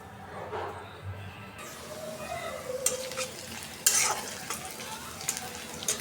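Hilsa fish pieces frying in a pan amid kitchen handling, a sizzle broken by scraping and clinks of utensils against cookware, with a few sharper metallic knocks.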